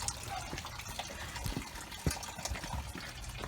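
Engine coolant drains from a Mercedes ML320 (W163) during a coolant change, a steady liquid trickle and splash with occasional louder drips, fairly faint and continuous.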